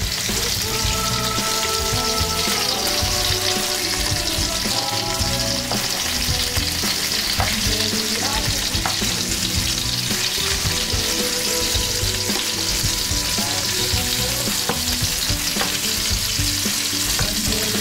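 Beef rolls sear and fry in a pan with a loud, continuous sizzle and popping, while occasional scraping and turning sounds come through the crackle.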